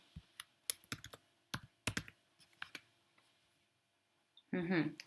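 Typing a word into an online dictionary: light, scattered keyboard taps and clicks, fairly close and quiet, followed by a brief voice at the end.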